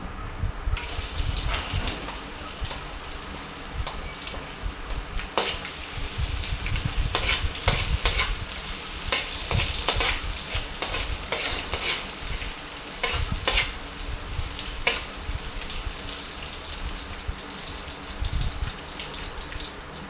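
Garlic and chili frying in hot oil in a pan for spicy pork adobo, a steady loud sizzle broken by sharp bursts of stirring and spatula scrapes, close up with no talking.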